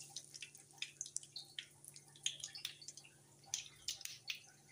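Mustard seeds splutter in hot oil while masoor curry is being cooked, giving quiet, irregular crackles and sharp little pops close by.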